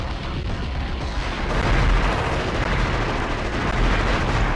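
Minigun and concussion beam fire in the video game Future Cop: L.A.P.D. form a loud, continuous barrage of dense booming and rattling gunfire that never lets up, with no voices.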